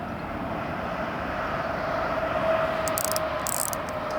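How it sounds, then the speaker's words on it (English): Constant broadband traffic roar from a busy motorway, steady and fairly distant, heard beside a gravel pit, with no voices. "you can hear lots of cars and stuff. We're right next to a motorway"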